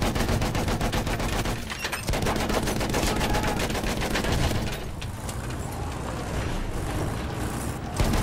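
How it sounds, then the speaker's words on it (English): Enemy machine gun in a video game firing sustained automatic bursts that blend into a dense, loud wall of gunfire lasting the full stretch, with no voices over it. "Enemy machine gun over there."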